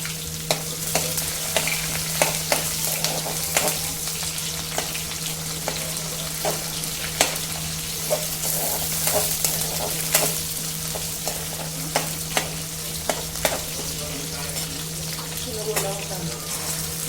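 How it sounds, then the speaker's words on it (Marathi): Onions frying in ghee with caraway, black pepper and bay leaf for a veg pulao, a steady loud sizzle with repeated sharp clicks and scrapes of a spoon stirring in the pan, alongside a constant low hum. "आता आपण यात कांदा टाकणार आहोत। कांदा छान भाजून घ्यायचा।"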